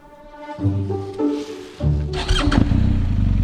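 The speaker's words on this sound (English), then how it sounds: "On the back of my own motorcycle." A motorcycle engine idles and revs, building into a loud, steady roar as the bike pulls away, close by.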